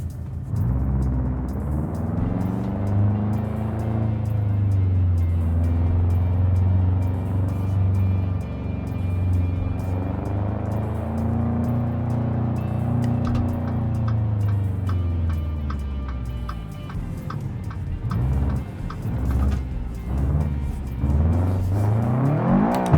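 Subaru BRZ mod car driving in BeamNG.Drive, a steady engine drone rising and falling with revs and gear changes, close and loud throughout, with faint ticking and no talk.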